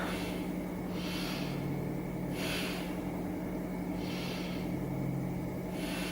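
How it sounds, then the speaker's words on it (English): Three slow, deep breaths held in a yoga pose, each a soft airy rush through the nose, evenly spaced over a steady low background hum, with no talking. "Take 3 breaths."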